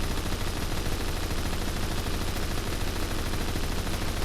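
Continuous rapid gunfire from a gun in the first-person shooter game Phantom Forces, a dense unbroken automatic burst filling the whole stretch at steady loudness.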